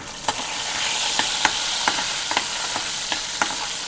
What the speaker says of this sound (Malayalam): കടുക് വറുക്കേണ്ട കാര്യം എല്ലാവർക്കും അറിയാവുന്നതാണ്